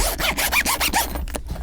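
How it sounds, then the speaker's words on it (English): Zipper on an AirPods Max shield case pulled open in a run of quick rasping strokes, close and fairly loud, with no talking. "let's see the zipper real quick."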